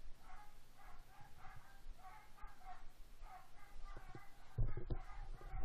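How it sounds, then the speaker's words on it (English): Several dogs bark and yip excitedly in the distance at the mailman, a scattered, overlapping chorus that stays faint and muffled throughout, with some nearby knocks toward the end. "Those are my dogs. They're going wild."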